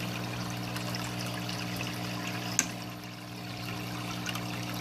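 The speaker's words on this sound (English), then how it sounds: "the impeller is still pushing the water that's in here through the media over and over" A Fluval Aquaclear 50 aquarium filter runs with a steady stream of flowing, splashing water over a constant low motor hum, with one faint click partway through.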